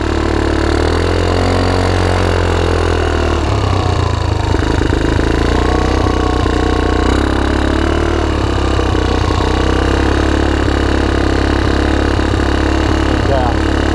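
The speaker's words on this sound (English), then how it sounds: "I don't hear any bad sounds out of the motor." ATV with a GY6 engine running hard at full throttle, a loud continuous drone that rises and wavers in pitch for the whole stretch, with someone talking over it.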